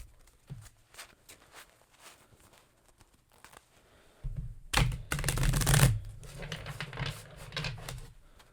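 Quiet scattered taps and handling of a Rider-Waite-Smith tarot deck, then a loud riffle shuffle bursts out midway, followed by continued rustling and tapping as the deck is squared.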